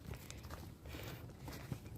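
Footsteps move quickly along a mountain forest trail at Gunung Putri, Lembang, a series of soft, irregular crunching steps that stay fairly faint and close, with no talking.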